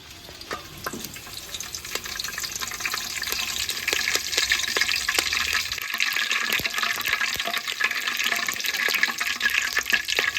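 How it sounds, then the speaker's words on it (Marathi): Curry leaves dropped into hot oil for a mutton rassa cooked over a wood-fired stove: a loud, dense, crackling sizzle that holds steady throughout, with sharp pops and no talk. "आता आपलं तेल टाकलेलं आहे आता आपण कढीपत्ता टाकूया"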